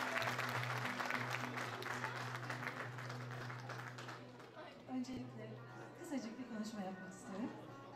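Audience applause rings out at an evening celebration concert, a steady wash of clapping that gradually thins and fades, with crowd chatter and a voice coming through underneath toward the end.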